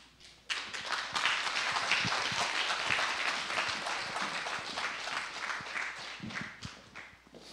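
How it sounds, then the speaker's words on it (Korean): A church congregation claps warmly to welcome a guest pastor at an evangelistic revival meeting, the applause starting abruptly, staying full and steady for several seconds, then thinning at the end. "우리 강사 목사님 앞으로 나오실 때 오늘만 큰 박수로 환영하겠습니다."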